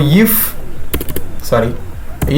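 Keys clatter on a computer keyboard as Python code is typed, quick clusters of clicks at close range mixed with someone talking over them.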